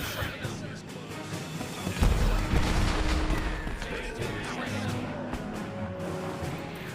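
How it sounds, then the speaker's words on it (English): Toy soldier cannons boom across an American Revolution video game battlefield, a heavy blast near the start trailing into a steady din of distant gunfire and crashes. "Cannons firing. They're kind of missing."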